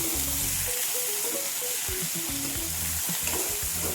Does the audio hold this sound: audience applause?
no